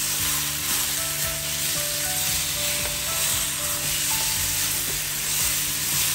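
Chicken, a whole bird of about 900 grams cut into pieces, sizzles and fries steadily in a pan while being sautéed, a constant close crackle with occasional stirring scrapes and no voices.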